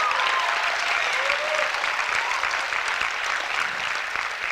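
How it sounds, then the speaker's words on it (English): Loud, sustained applause from a poetry slam audience, dense clapping from a large crowd holding steady throughout with no pause. "Clap for them."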